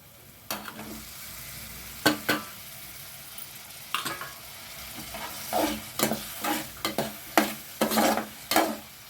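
Potato masala with tomato, garlic and ginger frying in a pan, a soft continuous sizzle broken by repeated close scrapes and knocks of a spoon stirring, growing busier toward the end.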